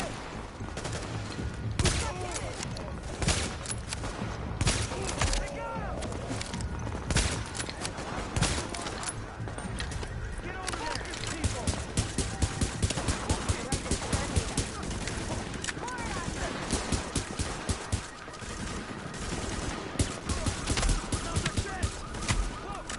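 Sustained automatic gunfire from the player's weapon in The Division rattles loud and close, with rapid bursts and dense volleys that run almost nonstop for over twenty seconds.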